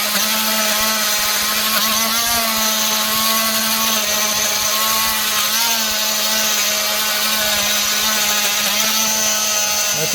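Power tool planing rotten wood off a motorhome during a rot repair, a steady high whine with a constant grinding hiss, loud and unbroken throughout with no speech.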